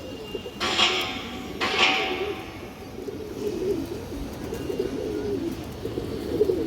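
A female pigeon coos softly in a loft, a low murmuring call running through the clip close by, with two brief hissing bursts near the start and no talk.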